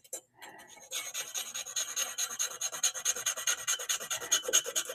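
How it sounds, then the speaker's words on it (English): Silver jewelry scraped against a testing bar in a scratch test, a close, continuous rasping rub with rapid repeated strokes lasting several seconds, following a brief quiet start. "So let's do a quick scratch test on this."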